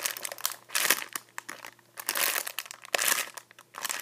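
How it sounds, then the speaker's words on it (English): Crinkly squishing and crunching sounds come in bursts up close, like a soft foam toy being squeezed and released repeatedly. "I'm sorry for the noise. I just want to show you guys how squishy it is."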